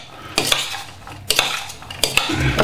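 A spoon stirring smoked fish salad with apples in a bowl, close scraping and clinking strokes in an irregular rhythm, fairly loud and with no talk.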